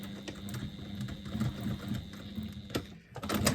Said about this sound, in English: make sure that it stays folded under as you stitch over it